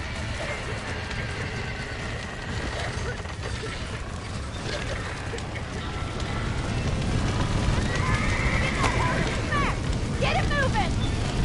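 Horses whinny and hooves pound amid a dense, noisy background in the video game Red Dead Redemption, with the neighing rising in the later seconds.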